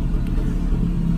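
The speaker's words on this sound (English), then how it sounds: "got the truck out of the garage now and leave that running for a little while so the bloody thing doesn't flood up" A truck engine idles steadily just after being driven out of a garage, a continuous low rumble held close and fairly loud throughout with no talking.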